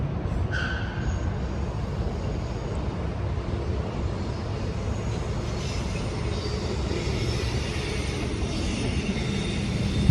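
A train passes steadily, a broad continuous rumble and roar of wheels on track, fairly loud and unbroken throughout.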